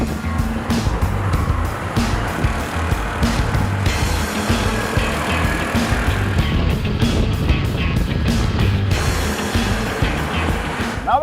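A Suzuki Access 125 scooter rides along a road, with steady engine hum and rushing wind and road noise throughout, loud and continuous.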